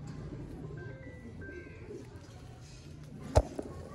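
Pigeons cooing softly in a breeders' loft, a few low calls rising over faint background murmur, with one sharp knock near the end.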